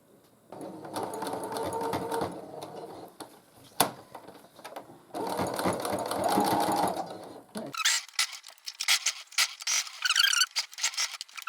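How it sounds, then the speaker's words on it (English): A sewing machine whirs in two steady stitching runs separated by a brief pause, then gives way to lighter clicking and rustling. "I'm just going to run that underneath the sewing machine"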